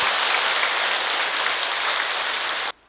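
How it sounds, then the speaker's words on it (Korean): Sustained applause from an assembled congregation at a Buddhist five-precept ceremony in a temple hall, steady and dense for nearly three seconds before cutting off abruptly. "큰 박수로 환영해 주시기 바랍니다."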